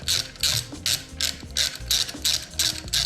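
A ratchet clicks in quick repeated bursts as it tightens a bolt with an added washer on a 2021 Yamaha YFZ450R ATV, close up and alone, about eight short pulls in three seconds.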